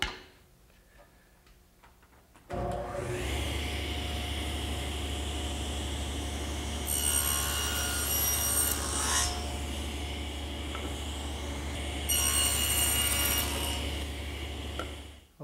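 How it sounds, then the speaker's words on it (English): Wood being sawn for a tenon cheek cut while building a bedside table: after a quiet start, a steady close sawing noise runs throughout, with two stretches of harsher, brighter rasping strokes. "the next cut to make is the cheek cut to remove the rest of this material"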